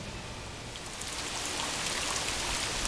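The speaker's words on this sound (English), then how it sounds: "It rained on my birthday." Steady rain falling outdoors on a birthday, a dense, even hiss with fine scattered drop patter that grows slightly louder partway through, with no voices.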